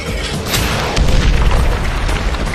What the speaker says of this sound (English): One of the missiles scores a direct hit on the enemy bunker.